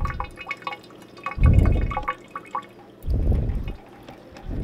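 Running water streams over aquarium plant roots while a planted tank is set up, with two heavier splashing bursts from the flow against a backdrop of lighter drips and trickles.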